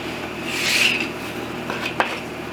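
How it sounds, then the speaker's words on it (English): A hand file cuts ironed-on edge banding on a bed frame, making a soft rasping scrape that swells briefly and fades, followed by a small sharp tick. "then I'm going to use my file to cut it."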